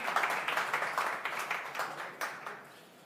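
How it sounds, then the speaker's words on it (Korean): A crowd applauds a speaker taking the stage at a South Korean presidential primary candidates' vision presentation, with steady clapping that gradually fades over a few seconds. "후보들께서 저 단상에 올라오실 때 박수로 환영해 주시면 대단히 고맙겠습니다"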